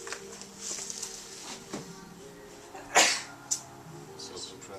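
A person sneezes sharply at close range during a hands-on bodywork session with compression work, one brief burst followed by a smaller one, with a quiet room around it and faint voices.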